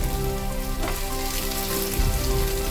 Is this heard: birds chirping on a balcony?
no